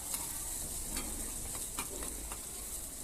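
Onions and chillies sizzle steadily in a pan for pav bhaji while a spoon stirs them, a continuous close frying hiss with a few soft scraping strokes.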